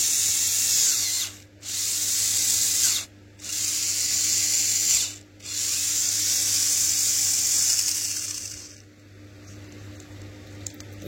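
The motor of a Tamiya Mini 4WD car with an SFM carbon chassis whines at high pitch in four bursts separated by short pauses, loud and close, with the last long run fading into quieter clicks.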